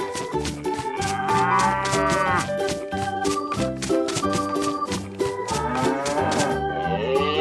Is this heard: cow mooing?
yes